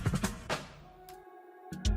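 A drum roll hit in Ableton, tuned down one step within an Afrobeat beat, sounds as a quick cluster of punchy low hits followed by a decaying, ringing tail. It is fairly quiet, with a short gap before another hit at the end.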